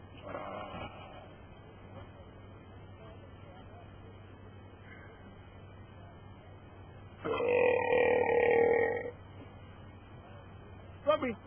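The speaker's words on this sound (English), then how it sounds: "You're burping on that dog." A person lets out a loud, rough burp lasting about two seconds amid casual drinking banter, standing out clearly over low steady background hum, with a short sharp noise near the end.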